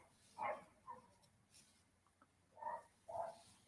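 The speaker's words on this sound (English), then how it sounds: "that's just the dogs next door" Dogs next door barking during an indoor Tunisian crochet lesson, a few muffled, distant barks in separate bursts, faint and unaccompanied by talk.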